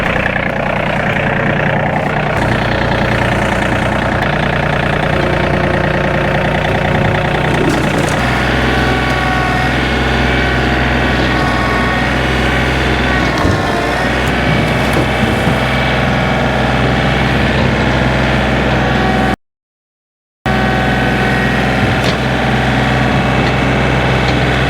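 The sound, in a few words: small tractor engine running while pushing debris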